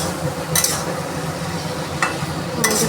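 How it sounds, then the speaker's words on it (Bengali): Pointed gourd and prawns sautéed in spiced oil in a pan, a steady sizzle with a few louder bursts of stirring scrapes, close by and without talk. "পটল আর চিংড়ি মাছ দিয়ে ভালো করে কষিয়ে নিচ্ছি"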